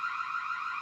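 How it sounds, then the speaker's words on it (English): A siren alarm sounds from a Reolink Duo 3V PoE security camera, giving a steady, moderately loud electronic tone that holds without a break for under a second. "we have a siren. So we can trigger an audio alarm,"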